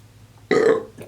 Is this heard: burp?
yes